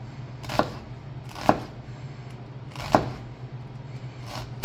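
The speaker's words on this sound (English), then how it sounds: "we're going to make thin cuts here all the way down the onion" A knife makes thin cuts down through an onion on a cutting board: four distinct, crisp chops spaced about a second or more apart over a low steady background hum, close and clear.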